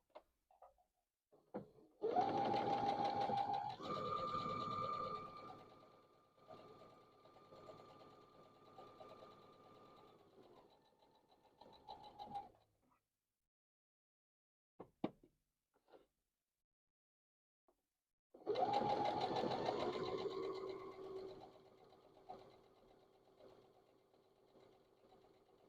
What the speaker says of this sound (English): Now I'm going to sew on the opposite side.